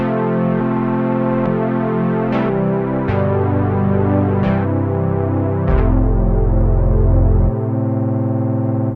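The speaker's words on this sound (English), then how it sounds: "You've got 2 types of chorus." Behringer 2600 analog synth playing sustained notes through a chorus effect, a thick, shimmering, slightly detuned tone with sharp attacks on each new note, loud and close with no talk.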